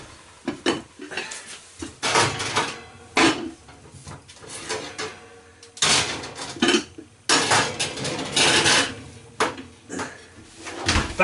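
A lidded casserole pot of hunter's chicken goes back into a kitchen oven with a run of loud, close clatters and clanks of cookware and metal, with rattles, knocks and an oven door shutting, in bursts spread over several seconds.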